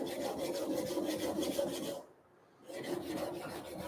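Steady rhythmic rasp of a knife blade stroked back and forth across a diamond sharpening stone, close and continuous, breaking off into a brief pause before the grinding strokes resume.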